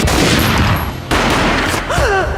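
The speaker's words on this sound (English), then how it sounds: "A gunshot boomed and she fell down in slow motion." Loud, close gunfire in the Max Payne graphic-novel game: a rapid burst of booming shots, a brief gap, then another heavy blast, with a short vocal cry near the end.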